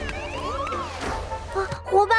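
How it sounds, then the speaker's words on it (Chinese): An alarm siren in a children's animated school-bus cartoon sounds as rising and falling electronic tones, moderately loud, with a voice calling out and a short burst of brighter beeps at the end. "有警报！"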